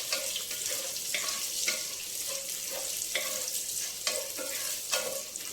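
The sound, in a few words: onions frying in a pan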